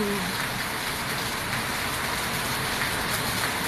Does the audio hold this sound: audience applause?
no